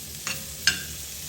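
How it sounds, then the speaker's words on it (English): Lentil and egg mixture cooking in a small pan with black pepper, a low steady sizzle broken by two brief scraping stirs, close and quiet with no talking. "Just let those kind of cook away in my little pan there for a second."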